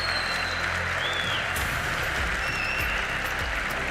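Hometown crowd at the Global AI Summit 2024 in Saudi Arabia applauding a silver award winner, a dense, steady wash of clapping filling the hall throughout, with a couple of faint whistles.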